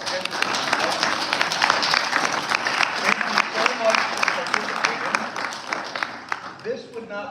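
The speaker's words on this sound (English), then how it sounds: "how about just a round of applause to everybody that entered the contest" Audience applause for photo contest entrants at a mug reveal event, a steady round of clapping from a modest crowd that fades out near the end.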